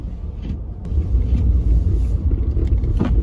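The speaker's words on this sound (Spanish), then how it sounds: "Es que es feo manejar en tiempo de nieve, la verdad." A car drives slowly along a snowy road in Chicago, heard as a steady low rumble of engine and tires from inside the cabin, with faint wind noise and no talk.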